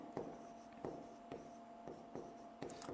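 Chalk or a marker writes on a classroom board in quick strokes, about six short scratchy bursts in a steady rhythm, close and fairly quiet with a faint hum underneath.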